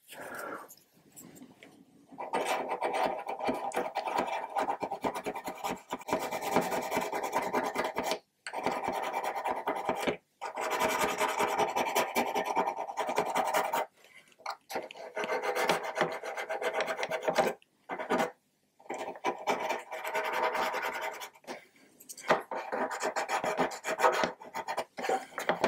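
Fine-grit sandpaper rasps across a part of a Trumpeter 1/200 Scharnhorst model ship in close, repeated scratchy strokes, with brief pauses between runs of sanding.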